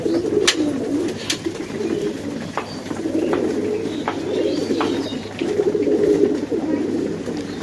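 Racing pigeons at a pigeon house coo while they feed, low repeated coos rolling on through most of the stretch, joined by a few brief sharp chirps and faint background voices.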